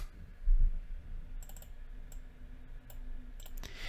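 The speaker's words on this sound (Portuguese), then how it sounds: "Vamos dar aqui um enter." Keys clicking on a computer keyboard, including a press of the enter key: a few light, separate taps scattered across the clip over a quiet room background.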